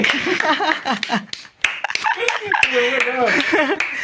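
Sharp hand claps ring out at intervals in a village home, mixed in with lively talking and some laughter throughout.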